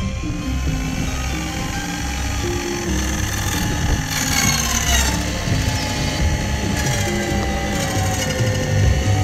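A power saw fitted with a glass blade cuts into a clamped piece of wood, giving a loud, continuous whining grind whose tone shifts slightly as the blade works through the cut.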